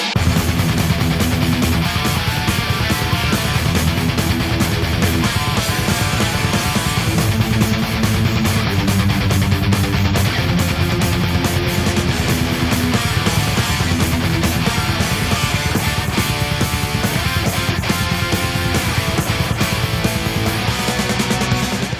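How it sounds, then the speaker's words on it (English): Dense, loud, double-tracked distorted electric guitars chug through a fast, driving thrash riff in a mix, layered thick and steady throughout with no pauses or voices. "Double tracked and in a mix. It sounds something like this."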